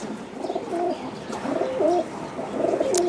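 Several pigeons at a pigeon farm coo close by, giving soft, rolling calls that overlap one another over a quiet background for about three seconds.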